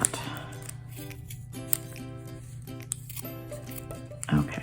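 Scissors trimming the fabric of worn chinos, a few soft, brief snips near the microphone over a steady background hum, with talk in the clip.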